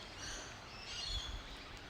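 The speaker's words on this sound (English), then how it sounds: "I'm aware of the sounds of the birds. There's many birds surrounding me." Birds call and chirp in a forest in the early morning, thin and distant over a soft, quiet background.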